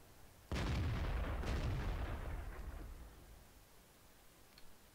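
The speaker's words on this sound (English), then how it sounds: "So, some more shots coming in there" Tank cannon fire in a World of Tanks match: a heavy, booming shot with a long rumbling decay, a second blast close behind, then fading to low background noise.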